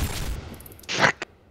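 A few sharp gunshots in a first-person multiplayer video game, a burst of bright noisy reports midway followed by a single short crack, with quieter ambient sound and faint voices around them.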